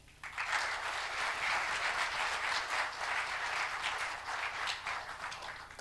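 Applause from an audience at the launch event, steady and moderately loud throughout, dense clapping following the end of a speech with no one talking over it.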